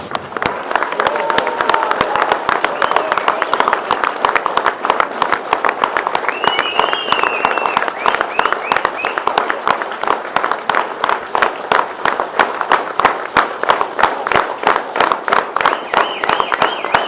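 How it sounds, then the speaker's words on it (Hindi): A large crowd at a rally applauds for Imran Khan, sustained rapid clapping filling the air with a few scattered shouts and whistles rising over the steady roar. "अब इमरान खान के लिए तालियां बजाएं।"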